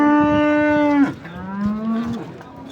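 Cattle low at a livestock market where cows, calves and bulls are sold: one loud, long, steady moo followed by a lower, softer second call, with no talk over them.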